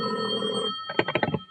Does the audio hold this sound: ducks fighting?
no